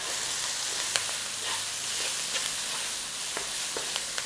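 Onion and garlic with cumin, coriander and smoked paprika sizzle in a pan for a white bean chicken chili, a steady close frying hiss broken by a few faint clicks and pops, with no talk.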